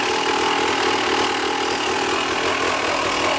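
A Honda CR250 two-stroke dirt bike engine idling steadily and loudly up close, a continuous rattly buzz with no talking.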